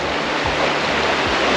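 A river flows beside a campground, a loud, close, continuous rushing of water with a low rumble underneath, steady and uninterrupted.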